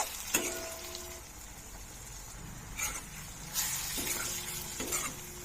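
Spices and sprouts fry in a pan over a low flame, giving a soft, steady sizzle broken by several scraping stirs and clinks of a spoon against the pan, with no talking.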